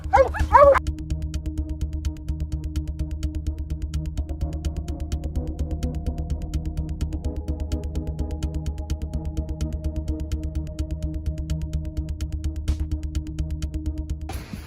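Hunting dogs bark and yip during a mountain lion hunt, their calls carried over a steady low rumble that runs through the whole stretch.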